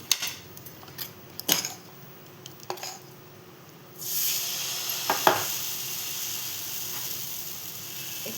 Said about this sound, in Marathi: आता आपण ह्याला जाळी होईपर्यंत फ्राय करून घेऊया आधी एक साईडून